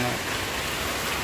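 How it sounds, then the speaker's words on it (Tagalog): Heavy rain pours down during a typhoon, a dense, steady hiss of drops drumming on surfaces, continuous and close throughout. "Sobrang ulan po ngayon."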